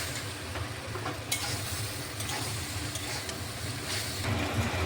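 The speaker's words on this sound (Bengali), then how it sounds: "ভালোভাবে সবগুলো মিশিয়ে আর একটু ভাজা ভাজা করে নিচ্ছি।" Fried bitter gourd, raw banana and eggplant being mixed and stir-fried together in a pan, making a dense continuous sizzle with scraping stir strokes, close and steady, no speech.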